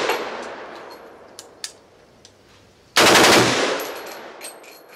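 A .50 Beowulf full-auto rifle fires outdoors: one very loud, sharp shot cracks about midway and rings off into a decaying echo, following a quieter opening report and a few faint distant clanks.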